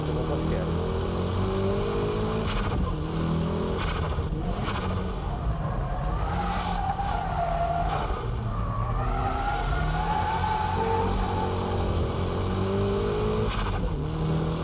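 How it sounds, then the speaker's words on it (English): Car power drifting uphill with braking on a winding course, engine roaring and revving continuously close by, with tire squeal and brake shifts in the mix and someone talking over it throughout. "Ride the brakes a little, then transfer the weight to the front. And from here, it's power drifting."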